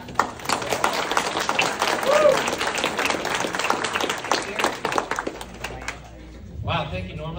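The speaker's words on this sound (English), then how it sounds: "let's give a big round of applause" Audience applause at a special needs fashion show greets a speaker being welcomed, dense clapping filling the room for about six seconds before thinning out, with cheers and voices mixed through it.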